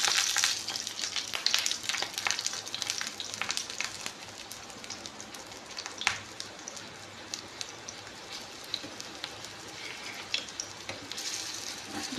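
Banana flower chops deep fry in oil with a dense, continuous crackling sizzle, patterned like rain, with scattered pops and occasional stirring sounds throughout.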